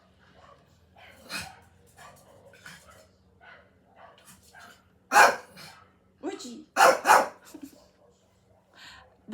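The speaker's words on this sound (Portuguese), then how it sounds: "desculpa o latido do meu cachorro" A dog barks sharply a few times nearby, loud bursts breaking through a person talking, with quieter yips in between.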